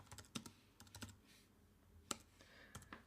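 Quiet typing on a computer keyboard, several irregular sharp clicks and keystrokes with short pauses between them, close and soft with no talking.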